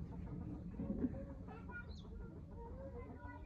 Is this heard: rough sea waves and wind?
no